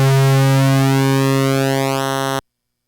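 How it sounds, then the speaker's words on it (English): A synthesizer sounds one sustained, buzzy narrow-pulse tone built from very thin square waves, holding steady with a slight rising sweep in its upper overtones before cutting off cleanly, loud and alone. "very thin square waves that are just the bottom and the top and then go in a straight line up and down"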